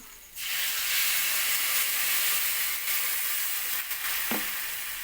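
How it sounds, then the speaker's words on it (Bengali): A splash of water hits tomatoes and vegetables frying in a pan for a long-bean curry, setting off a loud, steady sizzling hiss that holds for several seconds, close up with no talk. "এখানে একটু অল্প একটু জল দেব সামান্য"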